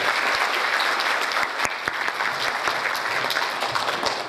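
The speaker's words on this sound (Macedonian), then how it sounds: "Па ајде да го поздравиме со еден громогласен аплауз." A concert crowd at a folk ensemble performance applauds a choreographer: dense, loud, steady clapping from many hands that keeps going without a break.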